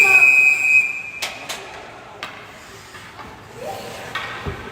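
A referee blows a whistle at an ice hockey game between Ottawa Heat and Montreal HC, a brief shrill tone over arena crowd noise, followed by sharp knocks and scrapes from the rink.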